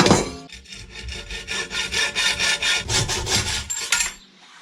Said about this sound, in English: this is your best sort of file